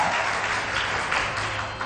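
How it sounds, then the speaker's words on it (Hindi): Applause from a TV studio audience on a Hindi morning talk show, a steady broadband patter of many hands clapping continuously for about two seconds, moderately loud and even. "इनके लिए बहुत सारी तालियां होनी चाहिए."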